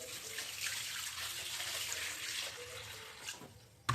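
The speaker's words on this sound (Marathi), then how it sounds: "आणि परत त्याला 2 पाण्याने धुवायचं आहे." Running tap water pours steadily over raw fish being rinsed by hand in a home kitchen, a moderate continuous splash with brief louder bursts near the end.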